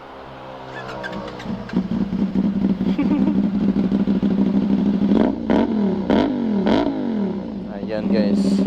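A CFMOTO 450SR motorcycle fitted with an SC Project muffler idles with a rough clatter, then revs in several sharp, rising blips that fall back each time. The bike sounds close and loud.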